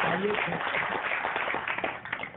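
Audience applause at a Hindi poetry gathering, a kavi sammelan for Hindi Diwas: continuous clapping from a crowd, fairly faint and muffled, steady throughout.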